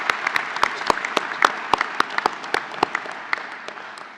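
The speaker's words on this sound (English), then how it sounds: "if we could send her a round of applause through the ether to her" An audience at a Melbourne postgraduate business graduation ceremony gives a round of applause, a moderate crowd clapping with distinct individual claps standing out in a steady, fairly close patter.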